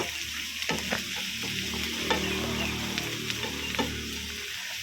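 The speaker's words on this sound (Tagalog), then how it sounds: "Patigisin mo muna yung chicken para walang sabaw." Chicken pieces stir-fried with onions in a pan while making an overloaded sopas, a steady close sizzle with spatula scrapes and clinks against the pan throughout, no voices.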